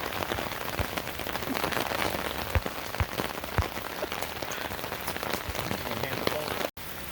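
Rain drumming on the metal roof of an adventure van, a loud, dense steady patter with occasional sharper drops striking close by, continuous and without talk.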